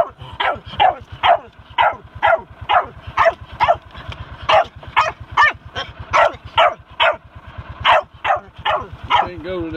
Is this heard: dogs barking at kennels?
yes